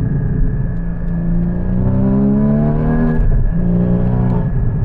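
A Porsche Cayman 981 GT4 on the move, its engine loud and close as it pulls hard through rising revs, easing briefly and then climbing again, with steady road and wind roar underneath and no talking.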